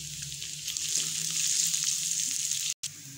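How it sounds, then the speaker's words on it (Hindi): Onions fry in oil, giving a steady, close sizzle with a constant hiss and faint crackles, then a brief moment of silence near the end before the frying resumes. "और इसको अच्छा सा सॉफ्ट कर, जब तक नहीं हो जाता प्याज़ों को, उस वक्त तक हम लोगों ने फ्राई कर लेना"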